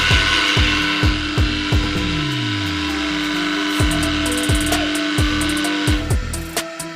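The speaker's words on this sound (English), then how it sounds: "Open the switch. Here you can adjust the frequency of the vibration." Vibratory screw feeder on a bolt riveting machine running, with a loud rhythmic mechanical knocking repeating about every half second over a steady buzzing hum, close by.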